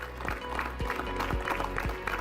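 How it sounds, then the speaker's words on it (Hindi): Audience applause at a farmers' quiz show, a brief burst of clapping from a crowd with rhythmic thumps, moderately loud and unaccompanied by talk. "तालियां जरा जोर से बजा दीजिए।"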